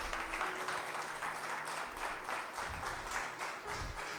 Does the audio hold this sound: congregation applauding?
yes